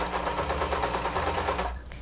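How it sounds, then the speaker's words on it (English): A sewing machine runs in a steady rapid stitching buzz as it locks stitches across a label on a harness strap, then stops near the end. "do 2 little rounds of lock stitches on both sides of the label, like so"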